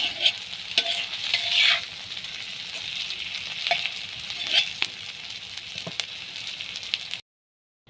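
Pointed gourd (potol) bhaji frying in a pan, a steady close sizzle with scraping stirs and occasional clinks of the spatula, no voices, ending abruptly in silence.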